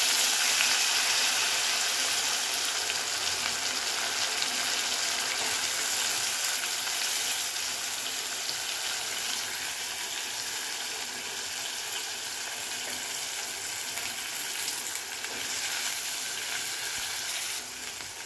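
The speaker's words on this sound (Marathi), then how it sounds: "जे कडधान्य धुवून घेतलं ते याच्यात टाकून घेणार आहोत आणि चांगलं परतून घेणार" Washed mixed sprouts sauté in a pan with turmeric, giving a steady, moderately loud sizzle with faint stirring that holds evenly throughout, with no talk.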